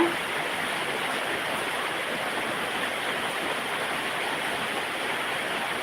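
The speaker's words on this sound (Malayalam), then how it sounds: "മഴ നല്ല ശക്തമായിട്ടുള്ള മഴയാണ് നല്ല ശബ്ദമുണ്ട് മഴയ്ക്ക്" Heavy rain pouring down, a loud, dense and unbroken roaring hiss that stays steady throughout, with no talk over it.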